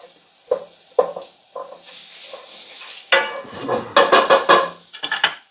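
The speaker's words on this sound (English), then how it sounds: "Raise the gas, we gotta melt down the butter, everything." Butter melts in a hot pan for shrimp spaghetti with a soft sizzle, broken by a few sharp knocks and scrapes of a utensil against the pan, close and fairly loud.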